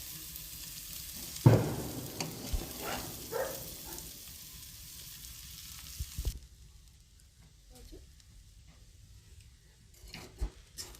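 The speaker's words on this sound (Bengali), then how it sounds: "এখন চাউটা সবে দিয়েছি, এরকমভাবে নাড়তে থাকতে হবে যাতে এটা জড়িয়ে না যায়" Chow mein noodles stir-frying in a pan with steady sizzling and occasional scraping and stirring clatter, then the sizzle drops away to quiet with a few faint knocks.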